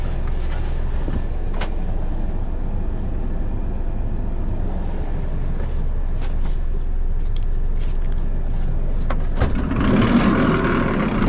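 Road traffic with cars and other vehicles passing on a congested street, a steady near rumble of engines with intermittent sharper sounds and a louder surge near the end, no talk.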